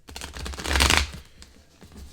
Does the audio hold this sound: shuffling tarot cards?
yes